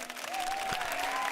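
A small group claps briefly in a room, a short burst of scattered applause with a faint whistle-like tone running through it.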